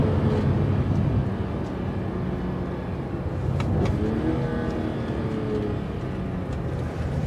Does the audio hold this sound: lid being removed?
no